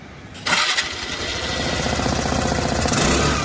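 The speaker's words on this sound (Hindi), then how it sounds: "भाई ये 2025 का एक्सेस का जो एग्जॉस्ट है ना ज़्यादा दिखाता है ना ही ज़्यादा चलाता है, तो एक बार उसके लिए आपको फिर से एग्जॉस्ट की साउंड सुना देता हूँ।" A 2025 Suzuki Access 125 scooter starts up, its exhaust settling into a steady, moderate idle burble that stays close and even, with no voices.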